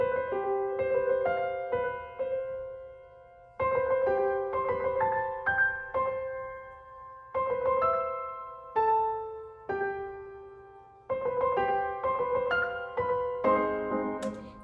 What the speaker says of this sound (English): I will just play you the little bit of the piano part at the beginning that I had created.